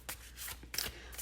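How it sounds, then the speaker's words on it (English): Tarot cards shuffled by hand in a quiet room, a few quick riffling bursts of papery flutter and soft slaps close to the listener, with brief pauses between them. "I'll go ahead and shuffle live."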